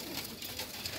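Ghazzar pigeons cooing close by in a steady, continuous murmur of soft coos, with no talking.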